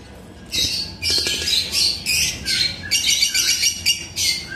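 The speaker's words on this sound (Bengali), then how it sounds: "আর এখানে এক জোড়া বাজিকা পাখি দেখতেছেন" A budgerigar pair in an aviary with newly hatched chicks, heard as bursts of sharp squawks and chattering chirps in repeated near, loud clusters with brief pauses between them.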